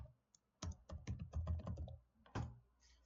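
Someone types on a computer keyboard up close, a quick run of soft clicking keystrokes with a short pause before a final few taps.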